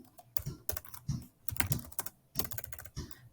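Brief bursts of computer keyboard typing come close and clear, with quick clusters of key clicks separated by short pauses and no talking.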